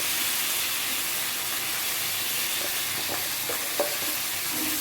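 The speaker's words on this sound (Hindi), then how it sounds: "आलू को डाल के मैं अच्छी तरह से इसको मिला दूंगी" Boiled potatoes stirred into fried spices in a pan for samosa filling, giving a steady loud sizzle and hiss throughout with a few faint scraping stirs near the end, no talk.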